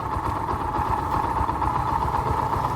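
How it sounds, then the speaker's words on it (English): A Bajaj Boxer X150 motorcycle, 2020 version, idles in neutral, its single engine putting out a steady, close, even thrum with a fast low pulse and no voices. "Right now I'm running on 0 and I'm on neutral, and my motorcycle is idling."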